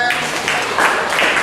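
Audience applause for an Interact nominee at a Rotary Club District 9141 World Interact Day conference, a steady wash of clapping from a crowd in a hall, mixed with voices throughout.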